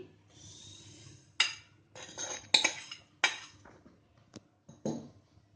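Fried vermicelli goes into milk in a pot for sheer khurma, followed by close spoon clinks and scrapes against the metal pot in several uneven bursts, with soft stirring in between and no talking.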